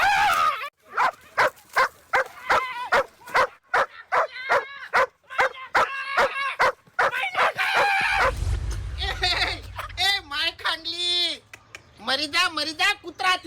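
A dog barks repeatedly in quick, loud bursts, then gives whimpering yips while people talk and shout over it, with a low rumble in the middle.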